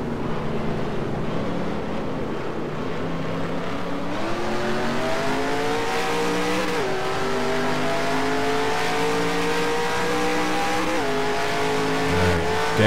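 A race car engine in the NR20 racing video game drones at sustained high revs with a hung throttle, pitch stepping up and down with gas and brake inputs, loud and continuous throughout.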